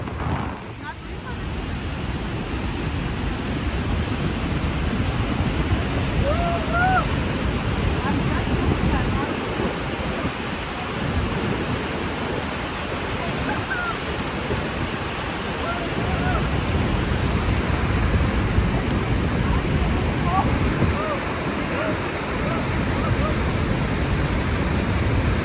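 Steady, broad rush of a large waterfall in Namibia, Epupa or Ruacana, roaring continuously for the whole stretch with wind buffeting the microphone and faint bird calls over it.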